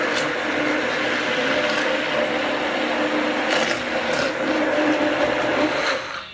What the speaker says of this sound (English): we are going to take our handy dandy immersion blender, or you could put it in a regular blender